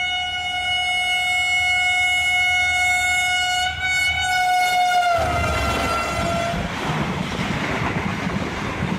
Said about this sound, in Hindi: जिन्ना एक्सप्रेस ये थोड़ी तेज होती है